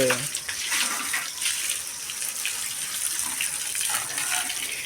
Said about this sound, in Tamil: இப்போ அகெயின் வந்து தண்ணி அடிக்கிறேன்